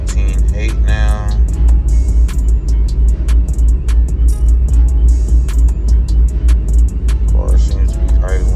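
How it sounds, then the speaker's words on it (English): An 800whp Procharged Pontiac idles with a steady, loud low rumble that fills the whole stretch, with people talking over it from inside the car. "Car seems to be idling decent."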